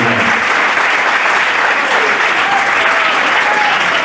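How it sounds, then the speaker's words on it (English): A comedy club crowd applauds volunteers at a 1990 hypnosis show at Broad Ripple Comedy Club, giving dense, even clapping that stays loud and unbroken from start to finish with no speech over it. "give these fine folks a nice big round of applause for volunteering for us tonight"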